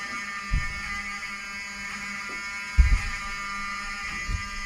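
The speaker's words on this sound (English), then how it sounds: "I want them to hear the fire alarm." Hotel fire alarm at the Westfields Marriott outside Washington, D.C., sounding as a continuous, harsh electronic buzz that fills the space, heard through an open door with a few thuds and bumps over it.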